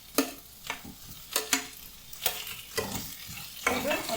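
Brinjal, okra, onion and tomatoes are sautéed in a pan for varutharacha sambar. A spatula scrapes and stirs in repeated strokes under a soft, steady sizzle, close up and with no talking.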